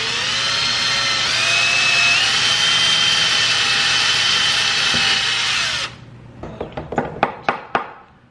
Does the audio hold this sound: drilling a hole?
yes